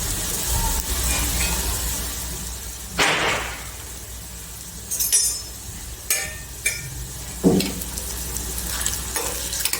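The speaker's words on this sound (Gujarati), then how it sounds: "આપણે આ રીતે તળી લેવાના છે. સ્લો ગેસ રાખવાનો છે, કારણ કે અંદર પણ ચડી જાય." Food frying in about three large spoons of oil in a pan over a low gas flame for a raw papaya curry: a steady close sizzle with several sharp stirring scrapes and clinks, no talking.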